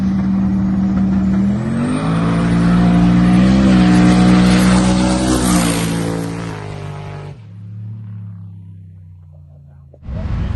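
Full-size daily-driver trucks race at a truck race in Fulton, Mississippi, heard as a loud engine revving and climbing in pitch, then dropping to a lower idle-like drone and a short silence before another loud burst.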